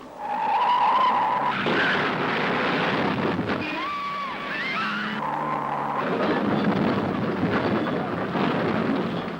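Touring cars racing over a mountain at the 1969 Hardie Ferodo 500: tires screech and squeal loudly while engines roar, with rough rumbling bursts as cars slide and cannon into each other, a chaotic burst of motorsport noise.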